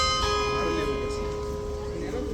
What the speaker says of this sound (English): any minute we should hear the bell